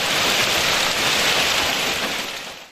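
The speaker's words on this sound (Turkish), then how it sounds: "Aniden bastıran fırtınanın getirdiği şiddetli yağmur, dolu ve yıldırımlar" Heavy rain mixed with hail pours down during a violent storm near Düsseldorf and Euskirchen in Germany, a dense, loud, unbroken roar of pelting that fades slightly at the end.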